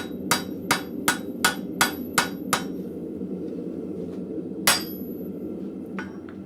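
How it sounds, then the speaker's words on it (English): A blacksmith hammers a pair of forged mild steel tongs straight, seven sharp ringing blows in an even rhythm, then a pause, one louder strike and a couple of faint taps over a low steady hum. "I am going to straighten up a little bit, because these tongs, this particular side of the tongs did go a little wonky because of all the forging I've done"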